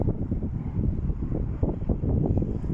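A strong, steady wind roars into the microphone with a dense, rumbling rush that never lets up.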